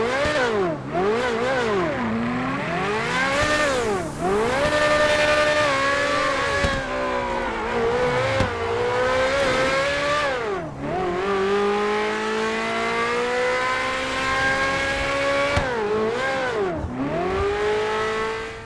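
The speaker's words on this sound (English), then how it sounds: "I'll also add real-life engine sounds" Car engines in GTA 5, fitted with real-life engine sounds, rev loudly over and over, rising and falling through gear changes, with near, continuous high-pitched wails and no talking.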